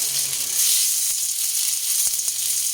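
Shrimp hit a hot pan of sizzling ginataang gulay with tomato, a steady close hiss of frying throughout with a few soft clinks of stirring.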